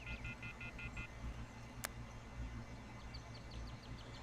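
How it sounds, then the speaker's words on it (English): A cell phone dials in the Everlasting Summer visual novel: a quick run of five or six keypad tones, a sharp click, then a series of soft, faint beeps over a steady low ambient hum. "I took out my cell phone and dialed the first number in my phone contacts"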